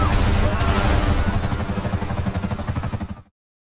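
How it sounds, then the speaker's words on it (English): Buzzard Attack Chopper helicopter in the video game GTA Online, a loud pulsing rotor and engine drone with a fast rhythmic chop that fades out abruptly. "At number 5, the Buzzard Attack Chopper."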